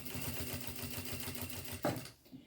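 A sewing machine topstitches a fabric makeup bag with a quiet, fast, even chatter of stitches. A brief louder knock comes near the end, then the machine falls almost silent.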